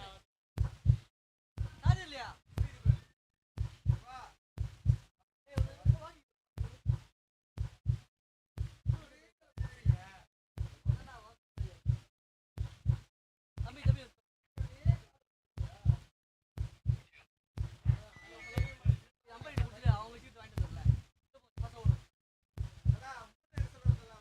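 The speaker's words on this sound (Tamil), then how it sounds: "DJ put that heart beat sound படி." Heartbeat sound effect played by a DJ over the PA at a local cricket match during a third umpire check, a deep steady double thump repeating roughly every second, with talk mixed in throughout.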